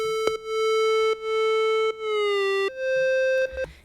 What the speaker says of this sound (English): This lead sound is just a sine wave plus the distortion that we added to it.